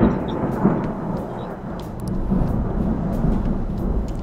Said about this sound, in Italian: È arrivato anche il tuono.